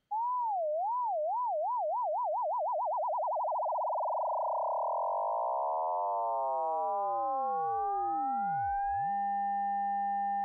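Synthesized FM tone from SuperCollider: a steady sine that wobbles in pitch, the vibrato speeding up into a dense buzzing cluster, then splitting into gliding partials that settle into a sustained bright chord-like drone, loud and alone.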